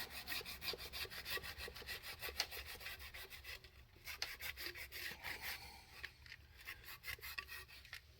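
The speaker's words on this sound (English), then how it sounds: "I like Scotch-Brite, just rub it down, sand it down a little bit, take some of that grit off, so it has a good seal." A Scotch-Brite pad rubs down a sealing surface during a Mazda CX-9 water pump and timing chain job, making fast rhythmic scratchy back-and-forth strokes, close and faint, continuing without talk.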